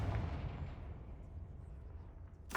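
A Confringo spell blast in the Hogwarts Legacy video game, a single heavy booming explosion that starts loud and rumbles away over about two seconds, followed by a brief sharp burst at the end.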